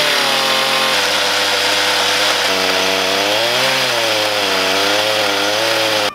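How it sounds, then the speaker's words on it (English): A chainsaw fitted with a ripping chain cuts a Purpleheart keel timber for a 1910 sailboat, running as a loud, close, sustained buzzing whine whose pitch sags and recovers under load before stopping abruptly at the end. "This thing is cutting really easily through the Purpleheart. It's got a ripping chain on it"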